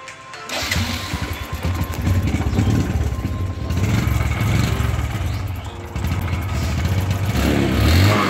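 A motorcycle engine drones steadily and close throughout a ride on a village road in Nadia, with rough clattering road rumble beneath it and a brief dip in the engine note partway through.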